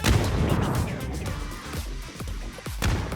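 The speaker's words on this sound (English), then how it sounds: "After a few adjustments, Shrimzy manages to drop 2 grenades right on top of Luke 12 to wipe him out." Grenade blasts in the PUBG video game land as several sharp, booming bursts with rumbling tails, spaced a second or so apart, loud and close with no talk.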